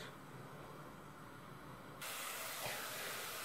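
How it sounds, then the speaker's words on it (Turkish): Onions and peppers sautéing in a pan of butter and oil, a steady sizzling hiss that grows louder partway through and keeps going with no talking. "Soğanımız, biberimiz sotelendi arkadaşlar."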